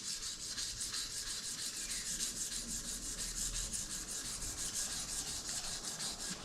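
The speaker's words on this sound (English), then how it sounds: "I would say about 400 or 600 grit, dead flat. Very lightly. I'm just rubbing" Hand sanding a stainless steel moulding from a 1976 Mazda with 400 to 600 grit paper held dead flat, a light, even, rhythmic rasp of quick back-and-forth strokes, close and steady with no talk.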